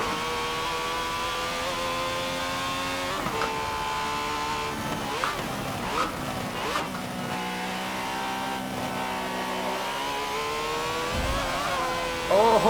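A prototype race car on the Nordschleife in Forza Motorsport 7 gives off a continuous, high-pitched engine whine that rises and falls with shifts and revs, with a brief heavier burst toward the end.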